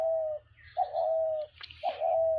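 Pet birds cooing in three drawn-out, steady calls close by, with short pauses between them and a soft, low background hum.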